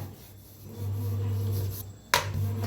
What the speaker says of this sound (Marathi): आता लाटून घेऊया